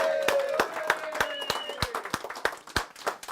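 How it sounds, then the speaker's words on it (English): A small group claps at a presentation meetup, with sparse, distinct individual claps in an uneven rhythm, fairly close and moderately loud, with some faint voices underneath. "Let's give them a round of applause."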